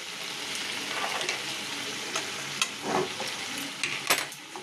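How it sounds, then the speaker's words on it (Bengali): Spice paste sautéing in hot oil in a pan, with a steady crackling sizzle broken by sharp scraping stirs of a spoon. Close and continuous, with no talking. "মশলাটা দিয়ে ভালো করে কষাবো"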